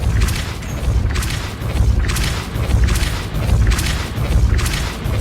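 Depulso spell blasts in the video game Hogwarts Legacy, a series of heavy booming thuds repeating about once a second, loud and close, with no talk over them.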